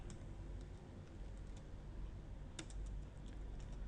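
Someone types on a computer keyboard while entering Java code, producing soft, irregular key clicks over a low background hum. One sharper keystroke stands out in the middle, and nobody speaks.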